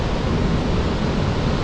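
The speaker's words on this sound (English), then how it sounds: "Cave Falls, the southern side of Yellowstone Park." Cave Falls on the southern side of Yellowstone Park, the park's widest waterfall, roars as a loud, dense, unbroken rush of falling water heard up close.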